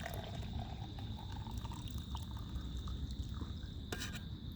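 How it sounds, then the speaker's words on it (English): Brewed coffee poured from a Stanley Boil & Brew French press into a cup, a steady low liquid stream with faint splashing throughout, quiet and close, with no talking. "Now all there is left is to pour it into our cup."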